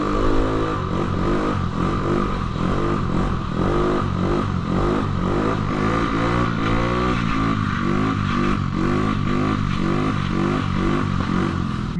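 A small 50cc-class motorcycle revving steadily up close, its engine note rising and falling in a rapid repeated pattern as the throttle is eased on, with no speech.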